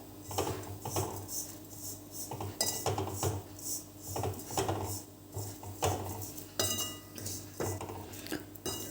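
A spoon scrapes and clinks against a pan while dry coconut chutney for vada pav is stirred continuously over a switched-off gas flame, making repeated close metallic taps and scrapes in an irregular rhythm.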